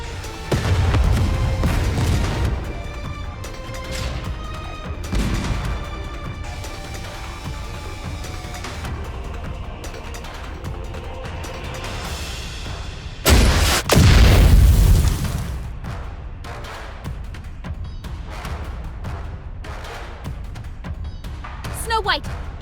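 Artillery explosions in the video game Goddess of Victory: Nikke, a heavy boom burst standing out midway amid fainter thuds, with character voices talking over game sounds throughout.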